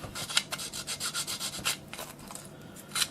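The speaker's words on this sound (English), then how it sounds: "So you want to ease the edges all the way around" Quick, regular rubbing strokes of sanding ease the edges of a Freewing L-39 battery cartridge part, a soft rasping rhythm of about a dozen passes, close and fairly quiet.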